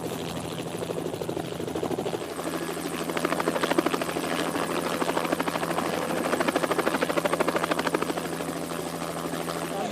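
A helicopter filming the Il Lombardia 2018 cycling race gives a continuous rapid rotor chop with a steady engine whine, loud and constant throughout with no speech.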